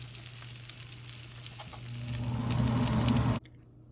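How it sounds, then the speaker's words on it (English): Close crackling sizzle with light popping from a Detroit-style pizza crust in an oiled pan, growing louder, then cutting off abruptly near the end, leaving near silence. "puffy crust, still sizzling."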